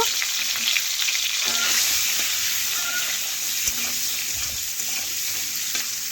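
Country chicken eggs with turmeric fry in hot oil with a loud, steady sizzle throughout, broken now and then by soft scraping stirs.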